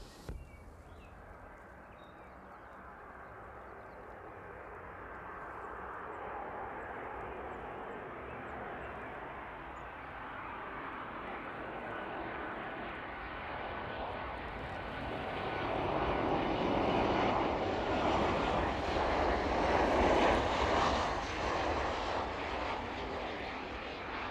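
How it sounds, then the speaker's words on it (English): Ryanair airliner on landing approach in the evening, its jet roar building steadily from distant to loud and broad as it comes in for a soft touchdown, with no voices. "Soft touchdown from Ryanair there."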